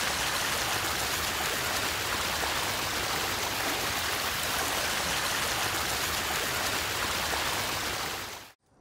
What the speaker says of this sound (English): Found this little waterfall over here in the middle of the woods.